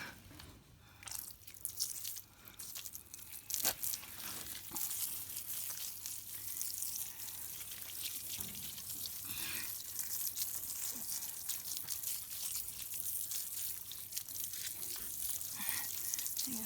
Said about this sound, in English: Now we're going to rinse it off.